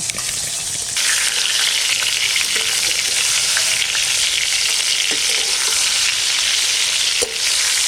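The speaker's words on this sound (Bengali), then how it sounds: "বেগুন ভাজা হয়ে গেছে" Eggplant slices frying in hot oil, a loud, dense, close sizzle that holds steady for several seconds with a few faint clicks of a utensil.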